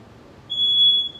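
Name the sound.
fire alarm beeping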